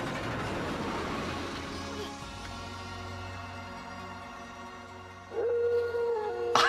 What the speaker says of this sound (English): that feel when you get to have a howl off with your past self